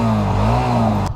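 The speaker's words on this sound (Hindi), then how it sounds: "सबसे पहले हम इंजन का साउंड सुनते हैं, न्यूट्रल पे है।" A Honda CB 300F motorcycle engine idles in neutral, a steady low, close thrum held evenly for a second before cutting off abruptly.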